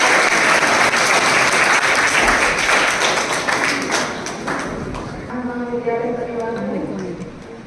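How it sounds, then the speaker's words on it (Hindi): Loud, sustained applause from a large crowd welcoming a chief guest at a Women's Day event, steady clapping throughout that thins slightly toward the end. "तो आपकी खूब जोरदार तालियों के बीच मैम का"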